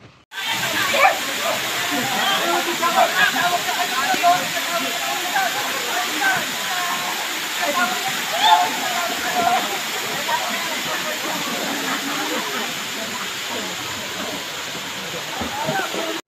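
Continuous rushing, sloshing water as people wade and splash in a stream at an outdoor adventure park, a steady near hiss throughout with faint voices underneath.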